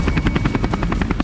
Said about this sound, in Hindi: अचानक जंगी हेलीकॉप्टर्स का शोर हुआ